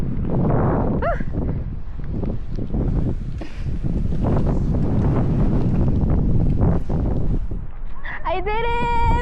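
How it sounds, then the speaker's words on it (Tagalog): On a mountain trail at Masungi Georeserve, strong wind roars and buffets the microphone throughout, with excited voices shouting over it and a shrill, bleating cry near the end. "ang lakas ng hangin"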